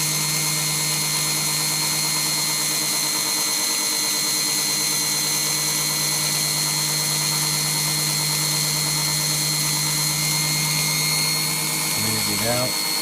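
A power tool runs at a steady, high-pitched whine while it grinds and smooths the seating surface and stem of an engine valve from a 1972 VW Beetle 1200. The sound holds constant and close for the whole stretch, and a short shift in pitch comes near the end.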